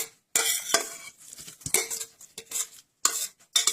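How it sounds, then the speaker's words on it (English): A utensil scrapes and clinks against a bowl in quick irregular strokes as cooked vegetables are stirred into an egg mixture for Egyptian quiche, close up with no talking. "stir that in. Mix the cooked ingredients with the egg mixture"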